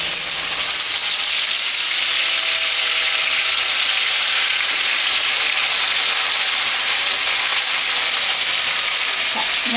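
Tilapia fish pieces marinated in spices sizzle loudly in hot mustard oil in a kadai, a steady close crackling hiss with no pauses and no one talking.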